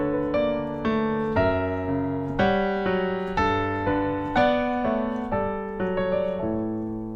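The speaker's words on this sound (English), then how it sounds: "the piano part sounds like this" Solo piano from a song, playing a steady sequence of struck chords and notes at an even pace, each one ringing and decaying before the next, clear and close with no voices.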